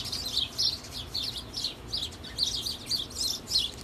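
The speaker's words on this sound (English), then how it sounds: "I literally have some birds fighting on the ground right beside me" Birds fighting on the ground outdoors give repeated short, high chirps in quick bursts, close by and fairly loud over a quiet background.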